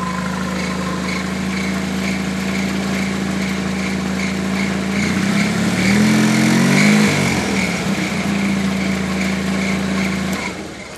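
A racer's engine idles steadily and close with a droning hum, briefly rising in pitch midway before settling back to a smooth idle.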